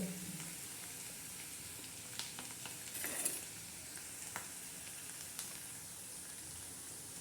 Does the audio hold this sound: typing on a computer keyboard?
no